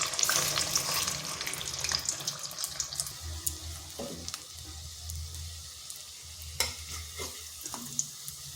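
Semolina and carrot snack pieces shallow-frying in oil, a quiet steady sizzle with occasional crackles and clinks of a spoon, no voices.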